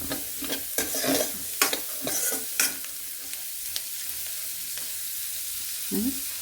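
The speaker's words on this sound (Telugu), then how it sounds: "ఇది మంచి ఫ్రై అవ్వాలి" Coriander seeds and cumin fry in a pan as a spoon stirs them, giving a steady soft sizzle broken by sharp scraping clicks and taps against the metal, close and fairly quiet.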